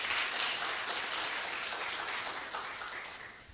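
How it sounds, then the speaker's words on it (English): A seated audience at a mining talk in Zambia claps for the director of the geological survey, a soft, steady patter of many hands that slowly fades over a few seconds. "Can we clap for him?"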